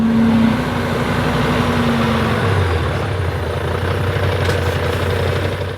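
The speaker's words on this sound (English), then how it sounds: "He's bringing the lorry up now." A Mercedes lorry fitted with a crane pulls up on site, its engine rumbling steadily and loudly throughout, with a low diesel drone shifting pitch partway through as it moves into position.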